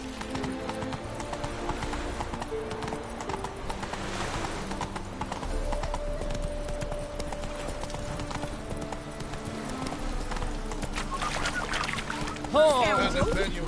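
A horse's hooves clip-clop at a run in the Witcher 3 video game, a steady galloping rhythm under game music, with a brief whinny near the end.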